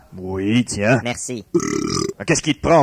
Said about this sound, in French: Pourquoi est-ce que t'as roté dedans?